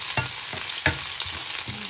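Food browning in a hot pan gives a steady, close frying sizzle, broken by a few sharp scrapes and knocks from stirring.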